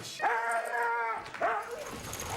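Dogs barking and yipping in a TV commercial during a baseball broadcast, two bright clustered barks close by with a gap between them, over faint background sound.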